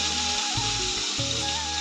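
Close sizzle of fish frying in oil, a constant crackling hiss with some low tonal hum from the surroundings.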